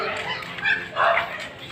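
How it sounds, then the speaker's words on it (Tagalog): Several dogs yip and bark in short bursts around a bathing spot, fairly close and moderately loud, with people talking nearby. "Ayan yung mga aso nila"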